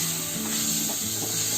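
Soy sauce hits a hot pan of spiced turmeric mixture, giving a steady close sizzle with soft stirring scrapes. No voice over it.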